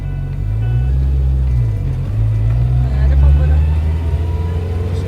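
A Suzuki Katana 4x4 engine drones from inside the cabin as it pulls away, low gear tones climbing and shifting with each change, steady and close over road rumble.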